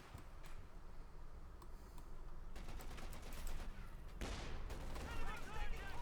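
Battlefield gunfire from a .50 cal machine gun and other weapons in Company of Heroes 2 crackles continuously under a commentator's voice, with scattered shots and denser bursts toward the end.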